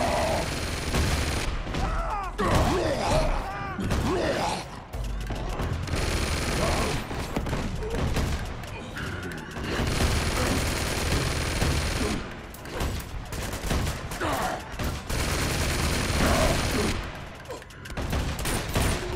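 Sustained gunfire fills a firefight in Uncharted 2: Among Thieves Remastered on PS5, as guardians are shot in close, dense bursts and volleys, loud throughout with brief lulls and faint groans mixed in.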